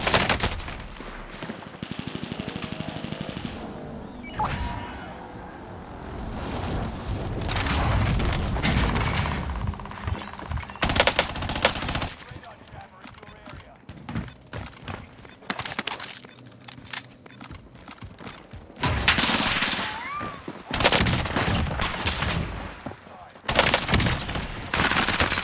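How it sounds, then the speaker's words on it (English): Rapid hip-fire gunfire in Call of Duty on Rebirth Island, loud bursts of automatic shots in repeated volleys with booming impacts, spread across the clip between quieter stretches. "is he just hip firing me?"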